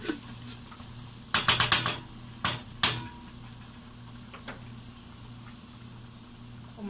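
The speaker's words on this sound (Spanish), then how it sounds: "vamos a ponerle la salsa" Sauce goes into a pot of sausages for spaghetti, heard as a quick burst of clanking and scraping from a utensil against the pot, then two sharper knocks, over a low steady kitchen hum.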